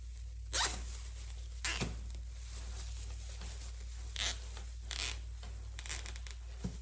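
Plastic zip tie pulled through its catch and cinched tight on a Christmas deco mesh wreath, heard as several short, sharp ratcheting zips spaced apart over a low steady hum.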